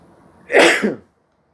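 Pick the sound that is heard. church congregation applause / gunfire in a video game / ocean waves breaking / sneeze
sneeze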